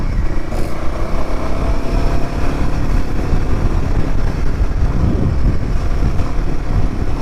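A Royal Enfield Himalayan 450 motorcycle riding off-road gives a continuous rumbling engine drone mixed with heavy wind buffeting, loud and steady throughout with no talking.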